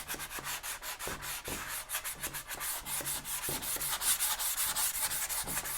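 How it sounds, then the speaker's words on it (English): Rhythmic hand rubbing strokes over milk-painted wooden furniture to distress the finish, a close, soft scratchy sanding sound repeating about twice a second, alone. "lightly rubbing over the surface."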